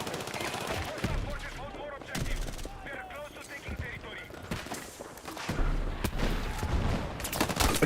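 Battlefield 6 gunfire: repeated bursts of automatic shots and booming impacts, loud and close, separated by brief lulls, with a voice talking and a game voice also heard between volleys.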